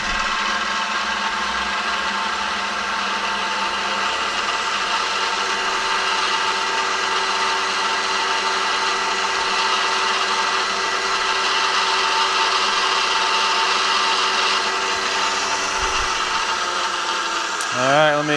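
Sustained high whine of a machine tool running a center drill into metal, running steadily for a long stretch, loud and close, with a brief change near the end.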